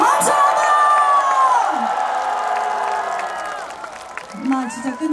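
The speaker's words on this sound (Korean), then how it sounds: "여러분 함성 소리 한번 들어볼까요?" A concert crowd roars and whoops with sustained cheering and high-pitched shouts that fade toward the end, at an outdoor happy-concert pop music show before an encore.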